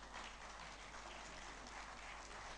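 An audience at a Nigerian energy and labour summit claps steadily, a dense sustained wash of applause filling the hall, moderately loud and even throughout, with no clear voices.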